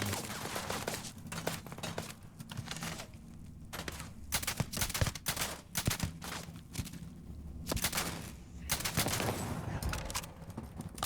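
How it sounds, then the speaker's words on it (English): Gunfire in the video game Starfield, with repeated bursts of sharp shots and rapid volleys that are loud and close, broken by short quieter gaps. "You can shoot me. Take a shot at me."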